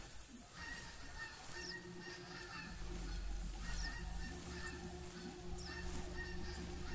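Game birds honk and call in theHunter: Classic. Repeated goose-like honks, moderately near, rise over a low steady hum in a quiet outdoor game setting.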